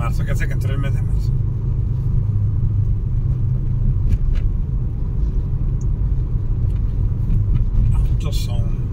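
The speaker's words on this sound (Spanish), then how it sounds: "Autos son." Steady traffic rumble from cars driving along a city street in Mazatlán's Zona Dorada, a continuous loud low drone with passing vehicles blending together, while a person talks over it.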